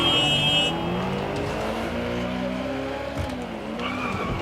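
A car in Watch Dogs: Legion skids under the handbrake, its tires squealing over a steady engine drone, close and loud, held for several seconds with no talking.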